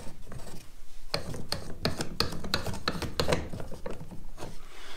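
A threaded plastic pool-construction pipe fitting is unscrewed by hand in a workshop, giving a close series of short ratcheting, rubbing clicks in quick irregular bursts over a few seconds.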